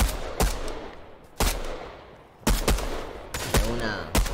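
Gunfire in a video game arena match: several sharp, loud shots in separate bursts, a few single cracks and short volleys, with game effects between them and no talk.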